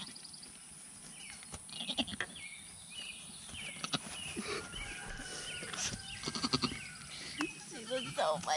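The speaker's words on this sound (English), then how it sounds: "you'd hear the little baby goats crying" Newborn baby goats bleat in short, faint, repeated cries while their mother licks them nearby, mixed with soft shuffling and people talking quietly.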